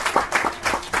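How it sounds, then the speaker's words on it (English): An audience at a secondary school science exhibition claps in a brief burst of applause, dense and close. "A very big clap."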